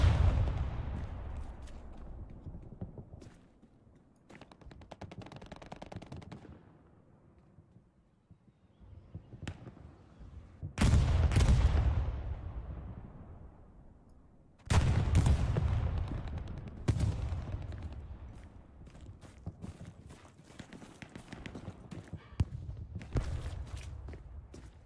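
Gunfire in the World War II shooter Hell Let Loose, with sharp bursts of shots at irregular intervals, some loud and close, others farther off, over a steady background rumble.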